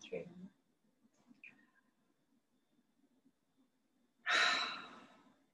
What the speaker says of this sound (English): breathing out through your mouth